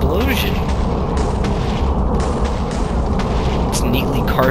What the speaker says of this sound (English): That's a very, very loud explosion.